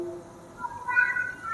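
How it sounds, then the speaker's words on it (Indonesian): A cat meows once, a drawn-out rising and wavering call in the second half, moderately close and heard over faint room noise. "Oh, ternyata ada kucing juga nih"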